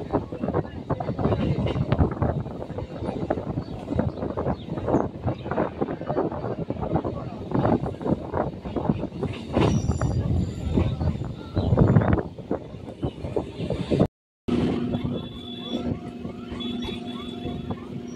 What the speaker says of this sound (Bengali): আমাদের ট্রেন এখন বাগবাজার স্টেশন ছেড়ে বেরিয়ে গেল